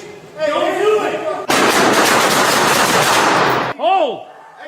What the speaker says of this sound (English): A hail of gunfire followed.